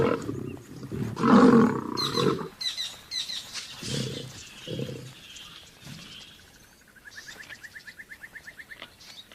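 Two lion brothers fight over a kill, letting out loud, close, rough roars and snarls in bursts. Quieter growls follow, then a bird's repeated chirping trill takes over near the end.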